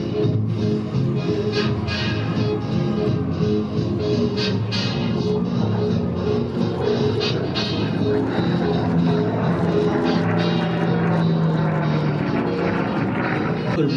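A P-51 Mustang makes a pass at the Amigo Airsho in El Paso, its propeller engine droning loud and steady for the whole stretch. Announcers talk over the engine noise.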